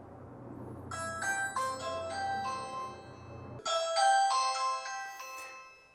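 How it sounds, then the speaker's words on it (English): A Ring video doorbell chime plays a bright, multi-note ding-dong melody twice, clear and close, over a low hum that stops partway. "someone rings the front doorbell with the video doorbell"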